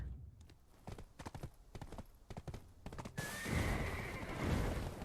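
A horse in the online game Black Desert trots with sharp, rhythmic clip-clop hooves close by, then a loud whinny and a rush of wind-like noise take over.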